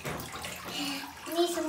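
Fresh water rushes steadily into a bathtub during bath time, a continuous close splashing hiss with children's voices now and then over it.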